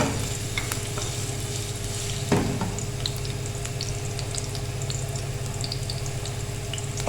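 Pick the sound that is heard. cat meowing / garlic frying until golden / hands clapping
garlic frying until golden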